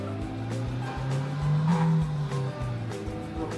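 In a driving simulator, a car engine hums loud and steady, swelling briefly in pitch, while soft squeals and regular ticks run throughout without speech.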